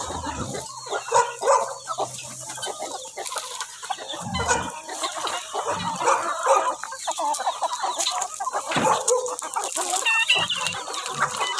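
Chickens clucking and squawking in a farmyard in Argentina, busy overlapping calls from a flock mixed with other livestock, a dog faintly present and an occasional crow, fairly close with no talk.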